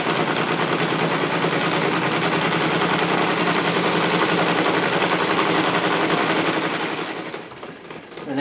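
A radial four-piston magnet engine runs fast with a dense, rapid mechanical chatter that holds steady and loud, then eases slightly near the end.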